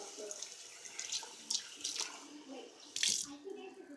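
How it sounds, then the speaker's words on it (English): Water running and splashing as a tomato can is rinsed out in a kitchen, a faint trickle broken by a few brief louder gushes. "I always like to take a little extra water, rinse out the can,"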